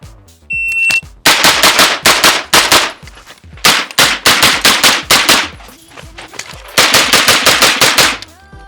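Rapid pistol gunshots fired with Supervel ammunition ring out loud and close in quick bursts of many shots, a brief pause splitting the string into two strings of rapid fire.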